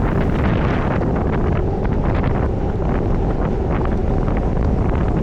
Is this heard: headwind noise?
yes